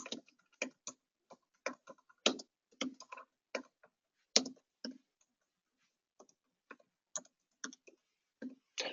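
Keys on a computer keyboard clack in irregular bursts of quick taps and short pauses, close and fairly quiet in an otherwise silent room.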